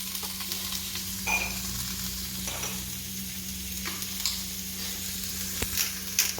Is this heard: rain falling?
no